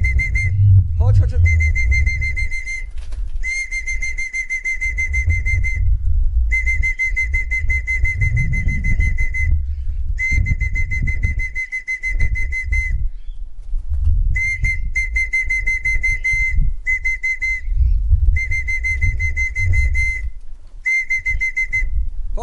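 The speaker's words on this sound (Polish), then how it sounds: "Bierzemy gwizdek." Whistle blown to call in racing pigeons during a pigeon race arrival, a series of long, steady shrill blasts separated by short pauses, over low outdoor rumble and handling noise.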